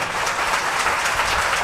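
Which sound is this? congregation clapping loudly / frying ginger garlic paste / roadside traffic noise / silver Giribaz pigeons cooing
congregation clapping loudly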